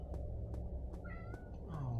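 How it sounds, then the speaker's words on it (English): A cat meows a few times inside the horror video game Fausts Alptraum, short tonal calls rising over a low ambient background hum with faint clicks. "Cat."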